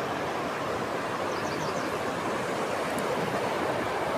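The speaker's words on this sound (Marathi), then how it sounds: "मंजूळ असं आवाज करणारं हे नदीचं पाणी" A river in the Konkan countryside near Dapoli rushes and babbles in a steady, dense wash of water noise that fills the whole stretch without pause, with no voices over it.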